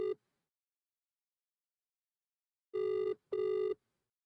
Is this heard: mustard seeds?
no